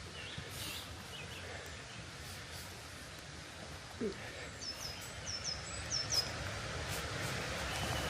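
Birds singing in the woods at the Birks of Aberfeldy in Scotland, heard as faint, scattered high chirps and short whistled phrases over a low, steady background rush.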